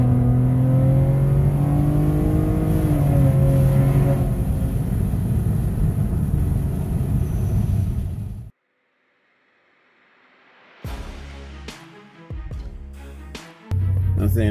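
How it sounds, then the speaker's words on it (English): Custom Dodge Journey with a sport tune, intake resonator delete and a pedal box throttle controller on Sport Plus accelerates hard from a standstill, its engine climbing through gears under steady road roar before cutting out, followed by scattered clunks and thumps. "One more 0-60 with the pedal box on Sport Plus."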